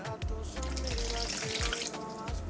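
Warm water pours steadily into a large bowl holding sugar and yeast, a continuous close splashing stream that runs unbroken for a few seconds with no talk over it.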